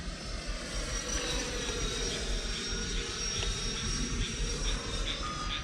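A Freewing F-14 Tomcat 80mm RC jet flies overhead at night, its electric ducted fan whining in a steady, loud drone with a faint rising whistle and no voices.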